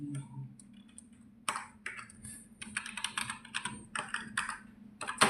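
Rapid typing on a computer keyboard while entering bank account details into Tally accounting software, a close, dense run of clicky keystrokes in uneven bursts, with a few louder taps near the end.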